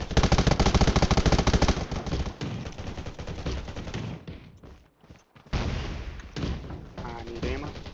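Heavy, continuous automatic gunfire hitting the player in the zombie survival shooter Undawn on a radiation island: dense rattling bursts that dip briefly into near silence and then resume loudly and close.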